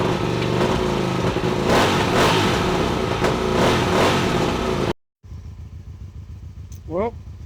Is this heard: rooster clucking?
no